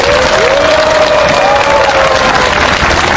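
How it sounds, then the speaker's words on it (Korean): At an outdoor Catholic protest mass over the Ssangyong eviction arrests, a large crowd gives loud, continuous applause with some cheering and a tonal shout carrying over the clapping. "큰 박수로 저희들의 희망 또 저희들의 다짐 한번 확인했으면 좋겠습니다."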